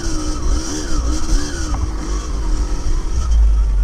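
Trail motorcycle engine straining and revving hard up a steep dirt climb, a loud, close, wavering drone that rises and dips in pitch over steady low rumble.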